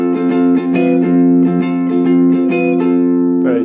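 Sus sharp 4 chord in the Lydian mode, voiced with a steady, sustained held harmony and light rhythmic strums on top, loud and alone.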